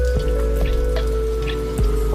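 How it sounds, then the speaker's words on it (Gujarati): Rain falling steadily around a house, with loud drops pattering and dripping on a hard surface close by, no voices. "વરસાદ નડ્યો આમ જો હજી ચાલુ જ છે."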